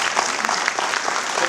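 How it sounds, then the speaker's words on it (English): Loud, dense audience applause at a speaking event, a continuous crowd of clapping hands with no break, heard close and full throughout. "Give me a round of applause, please."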